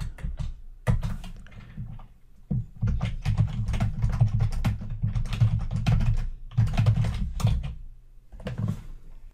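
Keystrokes on a computer keyboard as a Wi-Fi passphrase is entered while installing Ubilinux on an Intel Edison, tapping in quick irregular bursts with short pauses, close and clear with no talking.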